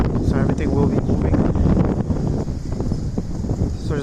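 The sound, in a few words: strong wind outdoors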